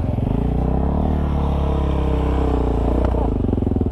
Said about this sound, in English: How do you control a bike in this muddy stuff?